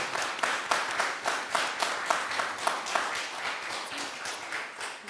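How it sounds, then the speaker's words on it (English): An audience at an evening panel event on equity in Clackamas County breaks into steady applause. Many hands clap in a dense, even patter that keeps an unbroken rhythm throughout, heard at a moderate distance. "Can we get a round of applause"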